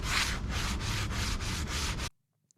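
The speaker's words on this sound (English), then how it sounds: "Next is light sanding with 80 grit and then 120 grit." Sandpaper rubbing over teak toe rails in light hand sanding, a steady run of about six back-and-forth scratchy strokes, close and fairly loud, ending abruptly in near silence.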